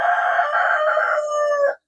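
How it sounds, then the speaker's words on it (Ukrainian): Rooster crowing once up close, a loud sustained harmonic call that holds steady and then cuts off sharply, with no other sound around it. "Замахав уже цей півень."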